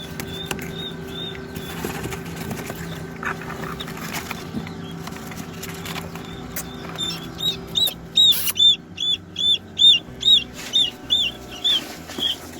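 Newly hatched quail and chukar partridge chicks give a run of high, thin repeated peeping chirps that grows steadily in the second half, over a low background hum.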